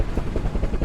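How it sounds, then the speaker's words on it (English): A helicopter flying over a hurricane-threatened sea to drop supplies to a drifting ship, its rotor a fast, loud, rhythmic chopping thrum throughout the brief moment. "A helicopter flew to the Alta on October 2nd to bring them some supplies."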